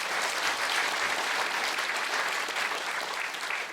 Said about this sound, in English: That round of applause, by the way.